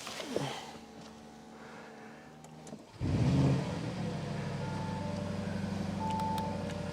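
A Range Rover Sport SV engine cranks and catches with a sudden roar, then settles into a deep, steady idle up close; chimes and beeps sound faintly before and after.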